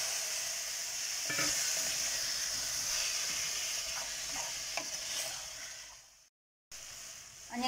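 Mutton pieces frying and stirred in a pan with tomato and masala for a Chettinad-style mutton curry, a steady close sizzle with scraping stirs throughout, then a brief silence near the end.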